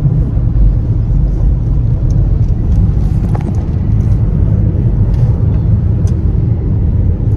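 Steady low engine rumble and road noise from inside a moving vehicle, constant and continuous throughout, with no talking.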